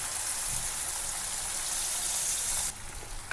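Tamarind water poured into a pan of sautéed onions makes a steady, close gushing splash that runs unbroken for a few seconds before easing off.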